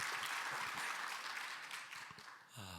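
A congregation at a church service claps to welcome the pastor, a dense, fairly distant wash of applause that tapers off before a voice speaks at the very end.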